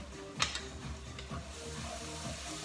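Onions sizzling in olive oil in a pan, a soft, fairly quiet frying hiss with a few stirring clinks and scrapes near the start, no voices.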